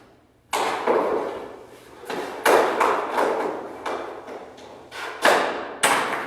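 A series of hockey pucks shot during solo training strike hard, with sharp, loud impacts and ringing thuds that come at irregular intervals a second or so apart, each decaying quickly, no voices.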